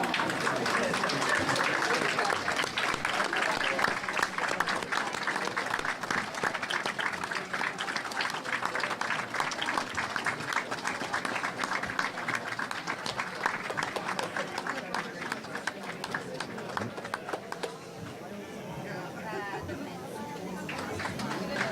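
A crowd at a youth provincial curling tournament applauds steadily as medalists from the boys division come off the ice, a dense patter of clapping mixed with chatter that holds for about twenty seconds and then softens slightly.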